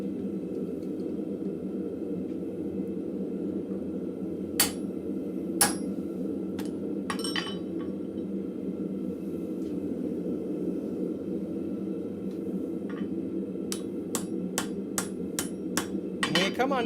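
A blacksmith hammers hot steel on an anvil to punch a hole. There are a few sharp, isolated ringing strikes, then a quick run of evenly spaced blows, all over a steady low forge hum.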